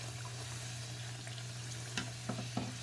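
Spinach puris fry in hot oil, a faint steady sizzle with a low hum underneath and a few soft clinks or stirring taps toward the end.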